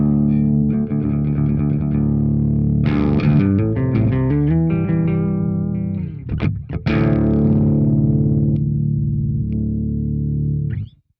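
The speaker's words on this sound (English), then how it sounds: "So just brings in that little octave sound. It makes it a lot bigger, fatter, funner." Electric guitar through a KHDK Annihilator II pedal with its octave effect blended in, giving loud, thick, distorted sustained chords and riffs with a brief dip near the middle, no talking.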